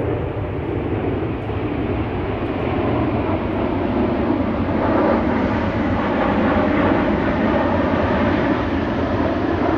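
A loud airplane on the Luton Airport flight path roars steadily overhead a wood, a broad continuous rumbling drone that swells slightly as it passes, with no other sounds.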